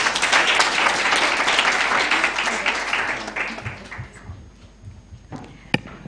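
An audience at a moot court competition awards ceremony breaks into sustained applause for the winners, dense clapping that gradually thins out into a few scattered claps and taps.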